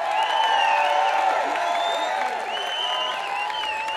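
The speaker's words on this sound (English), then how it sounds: "They deserve a massive cheer," Outdoor festival crowd cheering and clapping at a local big day out, a steady wash of applause and whoops with voices mixed in.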